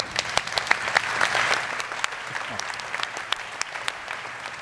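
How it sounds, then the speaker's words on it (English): Applause from a startup demo day audience after a pitch, a steady wash of many hands clapping with sharp individual claps standing out, easing slightly toward the end. "big round of applause for Stuart."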